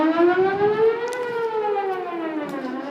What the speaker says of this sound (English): these are real tornado sirens ringing